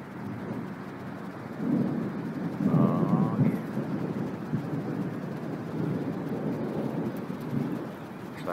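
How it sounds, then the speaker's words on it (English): Steady rain hisses outdoors with a low rumbling swell partway through, like distant thunder, and a faint bird chirp briefly rising above the downpour. "I'm getting rained on right now."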